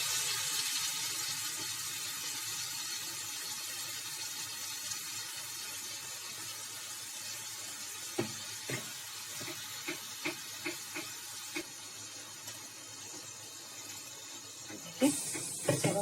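Tomato masala loosened with water from the mixer jar being poured into a hot pan for a spicy soya chaap curry: a continuous watery hiss and sizzle with scattered clinks and taps toward the end, fairly faint, no talk.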